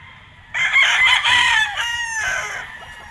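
A Laser Round Head gamefowl rooster crows loud and close in one long, strained call that breaks into a second falling phrase.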